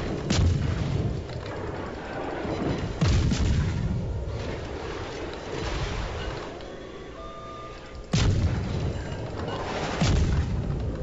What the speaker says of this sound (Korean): 너왜 부포가 여기까지 날라와?